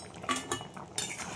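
A spoon stirs mung dal, cooked with fish head and vegetables, in a pot, giving a few faint metallic scrapes and clinks at an uneven pace with no talking.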